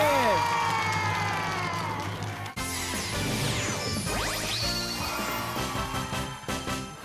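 Studio audience on a Taiwanese variety talk show bursts into loud, sustained applause and cheering, with whoops and music swelling over a continuous crowd wash before a brief dip and the clapping resumes.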